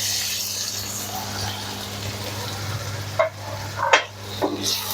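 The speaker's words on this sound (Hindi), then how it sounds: "अब हम इसमें चिकन ऐड कर देंगे।" Chicken fries in a pan with onion, garlic and ginger, a steady close sizzle with a low hum beneath, then a few sharp clatters and louder spatters as pieces are stirred near the end.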